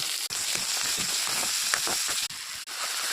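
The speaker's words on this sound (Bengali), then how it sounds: "ডাল সম্বাসের জন্য তেল গরম হয়ে গেছে, তেজপাতা, গোটা গরম মশলা, পেঁয়াজ, রসুন কুটে রাখা" Bay leaves and whole garam masala spices crackle and sizzle in hot oil for a fish-head dal, a steady close frying hiss with small pops and brief dips.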